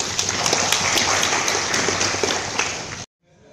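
Audience applause at a community tech talk, dense continuous hand clapping that fills the room for about three seconds and then cuts off abruptly.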